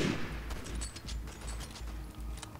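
Gunfire in Resident Evil 6 cracks out as a series of rapid shots, about six or seven fairly even bursts over a couple of seconds, set against a dense, rumbling game soundscape.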